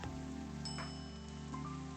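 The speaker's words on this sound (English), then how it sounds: "this rain is so loud" Loud, steady rain falls throughout the café scene of the visual novel game Coffee Talk, a continuous hiss with soft sustained tones beneath it and no voices.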